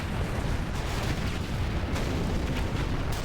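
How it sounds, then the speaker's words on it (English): Cluster bomb explosions from Nighthawk aircraft in Command and Conquer: Generals, heard as a dense, continuous rumble of overlapping blasts with a few sharper bursts standing out, loud throughout. "Here come the Nighthawks. Cluster bomb damage."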